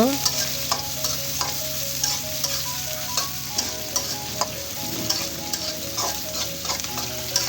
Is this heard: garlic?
yes